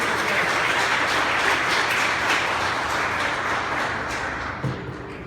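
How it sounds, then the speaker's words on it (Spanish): A church congregation applauds during a Spanish-language sermon, producing a dense, steady wash of clapping that holds for several seconds and fades slightly at the end, with no speech on top. "Demos un fuerte aplauso al Señor en esta mañana."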